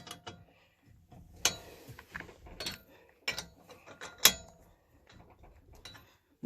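A wheel brace tightening the nuts on a car wheel during a flat tyre change, quiet intermittent ratcheting clicks and metallic clanks spaced irregularly at close range.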